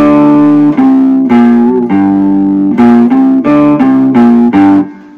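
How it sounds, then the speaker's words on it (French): Electric guitar played through an amplifier with an octave pedal adding a lower octave, sustained notes changing in a steady sequence of about eight loud, distorted chords with a thick bass undertone, alone with no talk. "L'octaveur, ça va te donner un truc plus grave, une octave plus grave en même temps que je joue."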